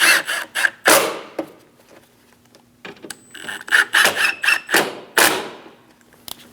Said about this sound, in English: Go around and snug down all the 10 mils.